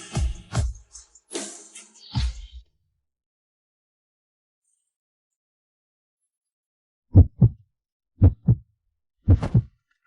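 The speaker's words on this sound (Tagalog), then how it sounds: "Bakit ang bilis ng tibok ng puso ko?" A heartbeat sound effect starts after a stretch of silence as paired low thumps, repeated three times in quick succession, following a few seconds of brief noise bursts at the start.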